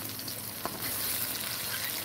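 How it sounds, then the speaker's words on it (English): Egg frying in a pan with garlic and onion, a continuous close crackling sizzle with a brief tap near the start and a slight swell in intensity after. "So I'm going to fry up some egg here."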